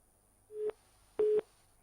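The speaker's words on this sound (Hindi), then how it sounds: "चलिए, लगता है फोन डिस्कनेक्ट हो गया" Telephone busy tone after a news phone line disconnects: two clean, steady beeps, a short one followed by a longer one after a gap, fairly loud and alone with no talk.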